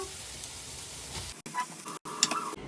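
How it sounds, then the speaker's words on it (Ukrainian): Onion and carrot frying in oil in a pan, giving a steady close sizzle that breaks off briefly twice before resuming with a few sharper crackles. "Смажемо цибульку."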